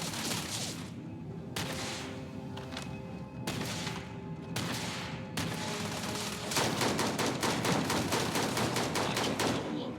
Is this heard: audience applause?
no